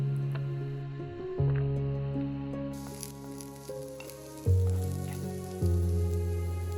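Carrots added to hot garlic in a pan sizzle continuously with a close, steady frying hiss. Soft background music with swelling surges plays throughout.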